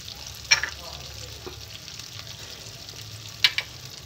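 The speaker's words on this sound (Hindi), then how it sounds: "अब इसको हम भूनेंगे इतनी देर कि हमारे टमाटर और मसाले अच्छे से भुन जाएं" Spices, salt, turmeric, garlic-ginger powder and tomatoes frying in oil for a fish kofta curry, giving a quiet steady sizzle with a couple of sharper stirring clicks, no talking.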